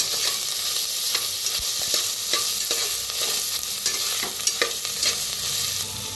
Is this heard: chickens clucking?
no